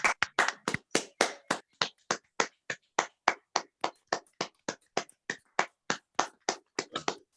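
A small online audience claps from their unmuted microphones, a rhythmic run of sharp, evenly spaced claps that sounds like only a few people, with no voices.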